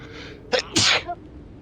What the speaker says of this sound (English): Oh no, you heard the sneezing.